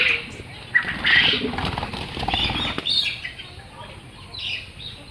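Quail on a small hobby farm flutter their wings in a few close, brisk bursts, with scattered faint chirps between them.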